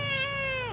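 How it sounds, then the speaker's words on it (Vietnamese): One short, close cat meow, clear and tonal with a slight drop in pitch at the end, heard on its own. "Oh no, có mèo này."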